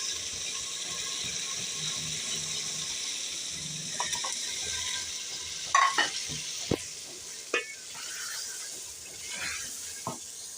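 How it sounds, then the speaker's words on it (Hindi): Potatoes for a spicy curry fry in a pan with a soft, steady sizzle, while a spoon scrapes and knocks against the pan in a few sharp, scattered clatters. "अब हम इसमें आलू भून लेंगे।"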